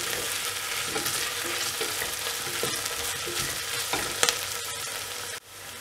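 Onions and green chilies saute in a pot for coconut milk pulao, a steady close sizzle broken by scraping stirs and a few sharp clinks near the end.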